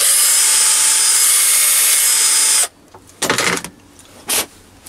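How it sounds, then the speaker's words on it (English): A cordless drill spins a cone-shaped burr against the end of a brass piston, whining loudly and steadily for a few seconds, then stops, followed by two short grinding bursts. "use a cone shaped burr tool in the cordless drill and just go from side to side like that on the end of the piston"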